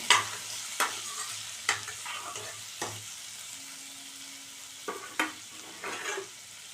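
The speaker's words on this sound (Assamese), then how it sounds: "এতিয়া এইখিনি মই ভালদৰে লৰাই দিম।" Beans and potatoes fry in a pan with a soft sizzle while a spoon stirs and scrapes them in repeated strokes every second or so, close by and with no talking.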